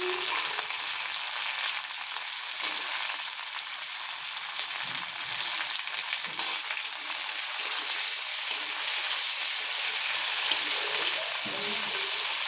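Tomatoes added to frying onions in a wok for a pea and paneer curry give off a dense, continuous sizzle and hiss close by, with light stirring and a faint voice at times.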